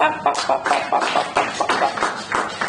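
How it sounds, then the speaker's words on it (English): Audience applause at a Rotary International district conference in Abuja, a crowd of hands clapping in a bright, uneven patter that holds steady for a couple of seconds. "So everybody, a round of applause."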